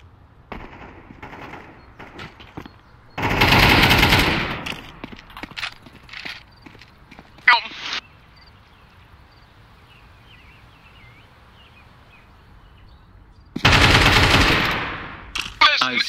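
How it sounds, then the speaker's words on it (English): Gunfire in the Counter-Strike 2 video game: two loud, dense bursts of rapid shots a few seconds apart, with scattered footsteps and small clicks between them and no voices. "I want to shoot him one more time just to make sure."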